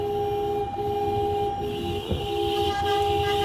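A motorcade of cars honks continuously along Avenida Boa Viagem, several steady horns sounding together at length under a rumbling traffic background.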